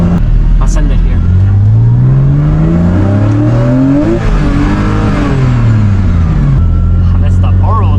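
A manual-transmission Porsche accelerates hard while being driven, its engine rising in steady revving sweeps through gears, loud and close throughout.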